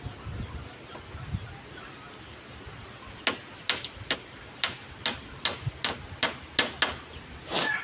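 After a few quiet seconds, a blacksmith's hammer starts striking metal in a quick, steady rhythm, about a dozen sharp ringing blows close by.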